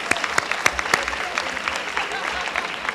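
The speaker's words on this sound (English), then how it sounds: "And women, come on, applause." Audience applause at a community book-event finale, a steady crowd clapping with a few sharp, close hand claps standing out early, sustained for the whole few seconds.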